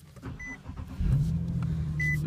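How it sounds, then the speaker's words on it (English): A couple of soft beeps, then a 2013 Nissan 370Z engine cranks and catches into a deep, steady idle exhaust rumble, close by. "Hop on inside, I'll fire it up."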